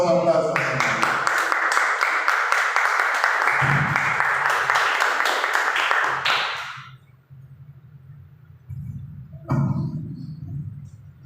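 Congregation applause during a church sermon, loud dense clapping for about six seconds that then cuts off, followed by a quieter stretch with someone speaking.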